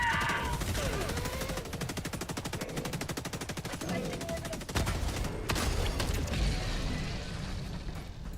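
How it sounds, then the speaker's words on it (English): Heavy autocannon fire in Helldivers 2, a rapid run of loud, evenly spaced mechanical shots hammering for several seconds amid battle noise. "And that's why I have the autocannon."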